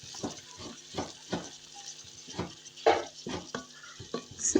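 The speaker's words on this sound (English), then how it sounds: "We are still on the saute setting on our pressure cooker." Minced meat sautéing in a pressure cooker on the saute setting, a faint sizzle broken by a regular series of soft thuds and scrapes as a spoon breaks the meat apart.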